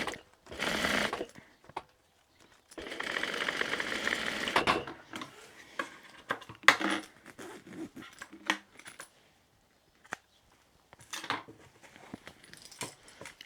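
A sewing machine stitches a tote bag zipper pocket in short, quiet runs of rapid clatter, broken by pauses filled with scattered clicks and handling noises.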